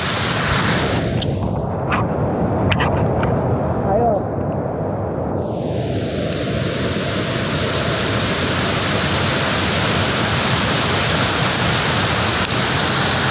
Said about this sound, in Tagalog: Ito, malakas tong agos na to sa may poste mismo ng tulay.